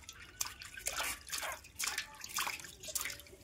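Water splashes and drips as a 21-month-old toddler is bathed in warm water, with irregular small splashes and trickles through the clip at moderate closeness, no talking.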